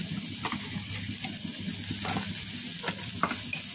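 Chopped onion sizzling in a pan, a dense continuous frying hiss with stirring scrapes over it, close and steady throughout with no talk.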